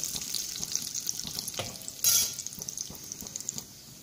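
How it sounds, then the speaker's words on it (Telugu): Mustard seeds crackle in hot oil with a pinch of turmeric, tempering for tomato rasam, a close, steady sizzle scattered with small pops and a brief louder burst midway. "వీటిని కొంచెం ఫ్రై అవనిద్దాం ఆవాలు మనకి చిటపట్లాడాలన్నమాట"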